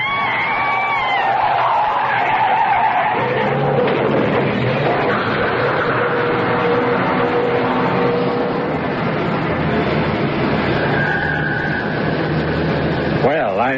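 A car with failed brakes skids with sustained tire squeal and engine roar, loud and close, the screech rising and shifting over many seconds before a final sharp squeal.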